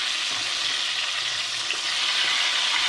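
Chicken pieces with garlic fry in very hot, deep oil, giving a steady, dense, loud sizzle that holds evenly throughout with no voices.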